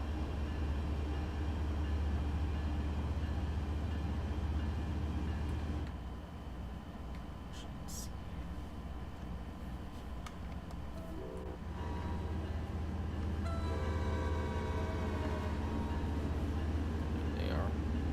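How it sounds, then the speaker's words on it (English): A locomotive in the Train Sim World 6 game rumbles steadily along the tracks, its low engine drone constant, with a horn blast sounding partway through. "I'll just leave my bell on, probably honk the horn again as I get closer."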